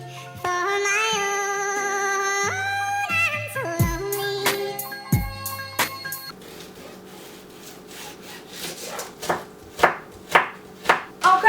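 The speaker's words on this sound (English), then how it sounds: "we gonna take this big old knife right here, this big old knife, and we gonna start cutting the onions" A big knife chops onions on a board for beef ramen, a run of sharp, evenly spaced thuds that grows louder toward the end, following a stretch of music with no cutting.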